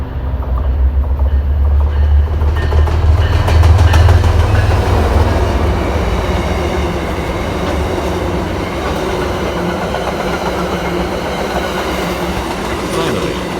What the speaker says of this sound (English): I'll rate the outbound Franklin train.